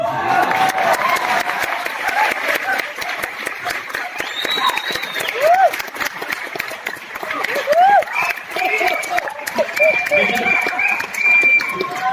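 Seminar audience in New Delhi applauding, a steady wash of clapping mixed with crowd voices and chatter that runs unbroken throughout, fairly loud and close.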